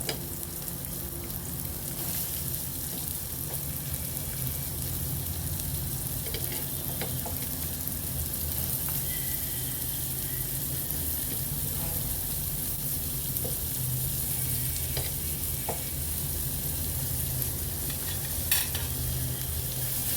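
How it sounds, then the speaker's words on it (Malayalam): Onion and carrot sautéing in sunflower oil in a pan, a steady soft sizzle running throughout with occasional faint stirring clicks, fairly quiet and close. "സവാളയും ക്യാരറ്റൊക്കെ ഇട്ട് കൊടുക്കാം അതിലേക്ക്"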